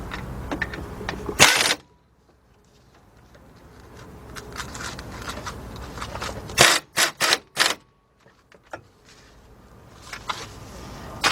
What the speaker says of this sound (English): grab your same 15mm deep socket with your little wobble extension, and you're going to tighten up the two caliper bolts